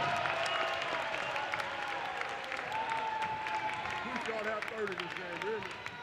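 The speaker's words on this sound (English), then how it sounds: "Ladies and gentlemen, big round of applause." Crowd applause in a high school gym at a Henry Clay versus Ballard boys basketball game, moderate clapping and cheering that continues under voices talking over it.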